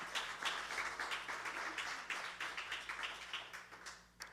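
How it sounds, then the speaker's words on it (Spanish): A church congregation at a Spanish-language service claps in praise, producing steady, fairly faint applause with a low hum beneath it that fades slightly at the end. "Dale un aplauso al Señor."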